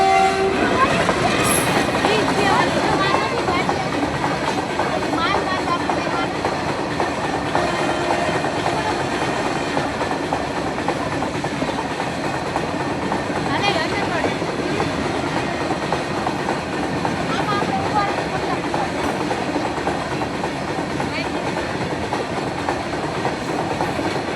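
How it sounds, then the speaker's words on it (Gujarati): A train rumbles past close by, a loud continuous roar of wheels on rails with rhythmic clatter and a horn sounding faintly early on; voices murmur underneath. "જો આવી ટ્રેન"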